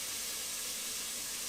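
Chopped onions sizzle in a little hot oil in a pan, a steady, fairly quiet hiss that continues evenly with no talk.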